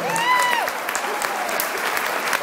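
Applause from the audience at a comedy fundraiser show for Kat and George, a steady patter of many hands with some sharper nearby claps, while a brief whistle-like tone rises and falls near the start.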